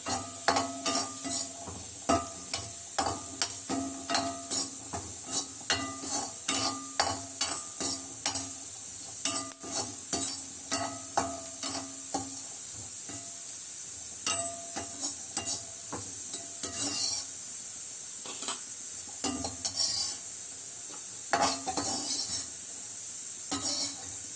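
Grated coconut roasts in a pan with a steady sizzle, while a spoon scrapes and taps against the pan in quick repeated strokes throughout.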